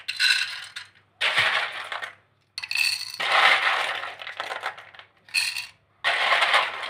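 Dry penne pasta dropped into clay tagine dishes, heard as several close bursts of light, hard clattering and rattling separated by short pauses, with no talk.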